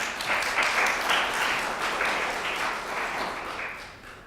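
An audience at a community panel on internet, social media and mental health applauds the panelists, a steady crowd clapping that swells early and then gradually tapers off over a few seconds.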